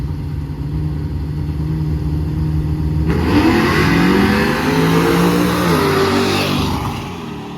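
Drag racing trucks launch at South Carolina Motorplex, engines idling low before erupting into a loud, rising roar that climbs through the gears and holds strong before fading.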